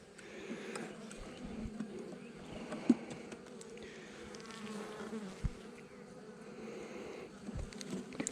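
Honey bees buzz around a hive where beetles had been caught in a cloth, making a soft, continuous hum that stays fairly faint and steady throughout, with a few light knocks and no talking.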